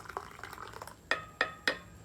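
Coffee splashes and drips unevenly from a cup with a loose lid, a few soft trickles followed by three sharp, distinct drips close by.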